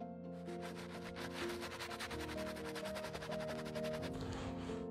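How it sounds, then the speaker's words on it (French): A soft-bristle brush scrubs a pair of Gucci leather sneakers with foamy cleaner, moving in steady circles. The rubbing is a continuous close, rhythmic swish over a constant background hum, with no talking. "Je déplace la brosse doucement dans un mouvement circulaire pour nettoyer l'intérieur et l'extérieur des chaussures."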